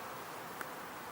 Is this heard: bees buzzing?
yes